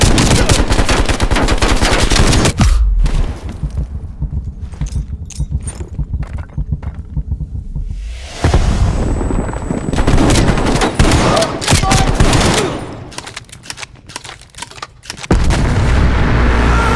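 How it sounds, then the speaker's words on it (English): Heavy gunfire in Call of Duty Cold War, with sustained loud machine-gun bursts and booming explosions in several long stretches separated by quieter gaps, with radio-style voices occasionally under the din. "We are still under heavy fire."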